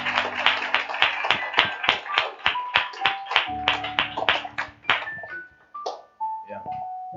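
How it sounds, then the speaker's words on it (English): Congregation clapping in rhythm during a church gathering, a steady run of sharp hand claps with sustained tones from a keyboard or instrument underneath and some voices mixed in. "Let's clap again. Clap again."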